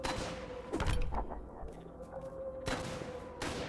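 Gunfire aimed at the player in Drake Hollow, a burst of sharp loud shots followed by scattered further cracks and thumps over a few seconds, no talking over it.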